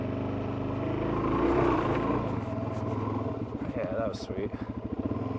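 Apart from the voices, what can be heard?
motorcycle riding on mountain roads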